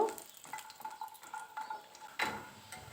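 Lentil dumplings (bori) fry in hot mustard oil with a soft steady sizzle, broken by light scraping and a few ticking taps of a utensil against the pan, close and fairly quiet.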